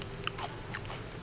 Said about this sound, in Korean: 제가 한번 먹어보겠습니다.